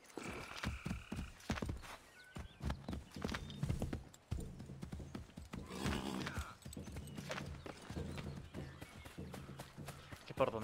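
Horse hooves clip-clopping at a gallop in Assassin's Creed III, a rapid irregular beat with occasional neighing, under game sounds and someone speaking Spanish over it.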